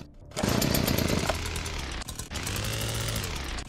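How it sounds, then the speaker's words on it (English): A saw melee weapon runs in the video game Meat Fortress, giving a loud, steady motor drone with a brief dip around two seconds before revving on again, heard alone. "Do I really get the fucking saw as a starting melee weapon?"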